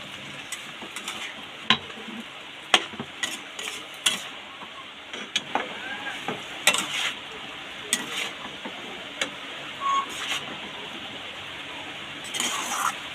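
Bottle gourd stems are stirred in a pan with a little added water, with close scraping and clinking of a spoon against the pan in irregular bursts over a soft background sizzle.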